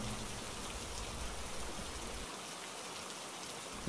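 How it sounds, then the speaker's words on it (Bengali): Heavy rain falls steadily in an evening cartoon scene, a dense, even hiss of drops that carries on alone with no voices. "সন্ধ্যা গড়িয়ে চারদিকে অন্ধকার নেমে আসছে, কিন্তু বৃষ্টি কিছুতেই থামছে না।"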